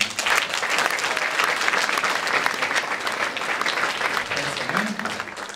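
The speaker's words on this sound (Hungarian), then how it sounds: "Kicsit nagyobb tapsra számítottam" Steady, dense audience applause filling a hall, many hands clapping at once without a break at an even, fairly loud level.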